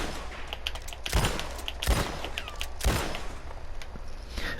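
Schofield revolver shots in the Red Dead Online video game ring out as three spaced, loud cracks over steady background ambience.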